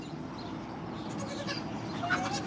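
Goats bleating in a cool barn pen, a couple of faint, short cries over a low background hum, fairly distant, with no talk.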